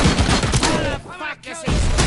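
Gunshots in Robocop: Rogue City, a dense burst of rapid shots that briefly drops away before firing resumes, loud and close, with a short voice in the lull.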